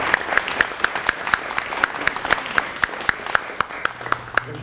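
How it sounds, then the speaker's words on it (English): A crowd at a school district candidates forum applauds steadily, many hands clapping in a dense, even patter that holds at a moderate level throughout. "You want to give them a round of applause?"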